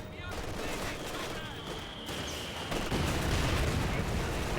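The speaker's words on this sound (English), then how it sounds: "Those mortars, they're doing some severe damage" Mortar and gunfire in a Company of Heroes 2 battle, dense rolling bursts and crackling volleys filling the mix, with a voice talking over the top.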